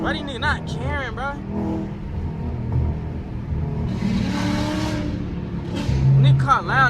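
Loud Dodge Hellcat and Scat Pack muscle cars rumble and rev nearby, their engine roar heavy and sustained through the whole stretch, with voices talking over it.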